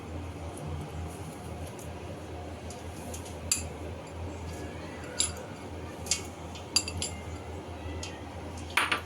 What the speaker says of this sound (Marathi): आपण बटाटे कुस्करून घेतले ते ह्याच्यामध्ये मिक्स करून घ्यायचंय।